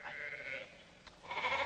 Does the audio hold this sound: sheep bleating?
yes